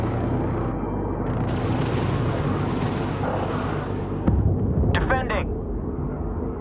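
Incoming rounds exploding around a ship in the space strategy game Homeworld 3, a rumbling roar of impacts with a sharp blast near the middle, followed by a brief radio-style voice over the continuing din.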